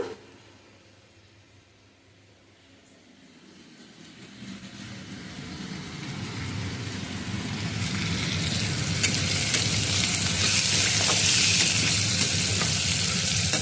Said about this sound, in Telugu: క్యారెట్ను క్యాప్సికమ్ కూడా వేసి కొంచెం ఉల్లిపాయలు వేసి ఒక ఒక్క ఉల్లిపాయ వేసి కూర చేద్దాంలే అనుకుంటున్నా